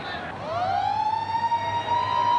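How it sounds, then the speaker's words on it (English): A long half-time siren at a 1994 rugby league match at Concord Oval rises in pitch and then holds a steady tone, sounding loudly over a murmuring crowd background. "Siren in the background, so that brings us to the end of that first half"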